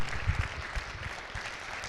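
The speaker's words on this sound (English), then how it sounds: "Ladies and gentlemen, let's give these folks a round of applause" Audience applause at a school celebration, a soft, fairly distant patter of many hands clapping steadily with no voices over it.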